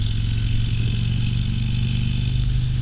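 A 2022 Harley-Davidson CVO Road Glide Limited motorcycle engine idles with a steady, deep, throbbing rumble. It is close and loud, with a slight clatter on top and no voices.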